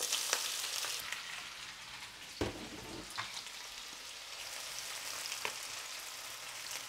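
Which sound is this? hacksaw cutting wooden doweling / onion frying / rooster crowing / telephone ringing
onion frying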